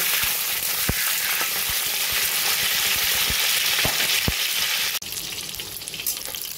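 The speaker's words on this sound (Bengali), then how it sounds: "এবার মিডিয়াম ফ্লেমে হালকা সোনালি করে পটলগুলোকে আমি ভেজে নেব" Pieces of pointed gourd (potol) fry in oil over a medium flame, a loud, continuous close-up sizzle with scattered sharp pops and crackles that briefly dips, then carries on.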